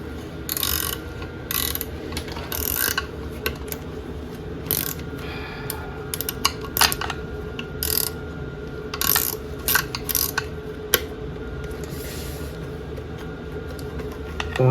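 A spanner works on the 1961 Bolens Ride-a-matic engine, making a string of sharp metallic ratcheting clicks and taps in irregular bursts, close and fairly loud, over a low background hum.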